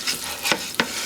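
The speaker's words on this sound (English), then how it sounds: "let me mix that around" Cumin and oregano are stirred in a hot frying pan for Mexican guajillo chicken: a brief soft sizzle cut by two quick scraping strokes of the spoon, close and clear.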